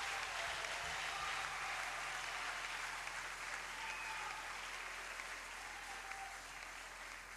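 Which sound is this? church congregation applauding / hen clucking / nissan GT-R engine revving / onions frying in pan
church congregation applauding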